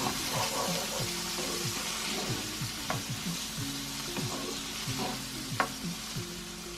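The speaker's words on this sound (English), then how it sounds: "So I just added a load of diced veg to a pan with" Diced vegetables fry in oil in a pan, giving a steady close sizzle broken by repeated scraping stirs.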